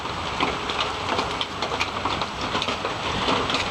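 Cold rain falls steadily, a dense, loud hiss of drops on surfaces with no pauses and no talk.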